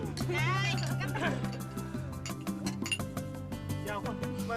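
Glasses clink together in a toast at an indoor gathering, a few light chiming taps heard beneath lively overlapping conversation and laughter.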